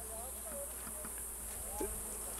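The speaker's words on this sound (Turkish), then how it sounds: "Şu anda bu meşe sarılı vaziyette arkadaşlar. Yani sanki arı oğul veriyor gibi. Meşe sarılı arılar." Honey bees swarming over an oak tree in Bilecik, Bozüyük, a dense faint buzzing haze with occasional individual bees whining past nearby, steady throughout.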